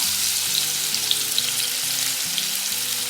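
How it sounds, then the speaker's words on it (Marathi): Finely chopped onion frying in a hot mustard-seed and asafoetida tempering, giving a loud, steady, close hiss with a few faint pops and no talk. "यातच आपण कांदा घालणार आहोत बारीक चिरलेला"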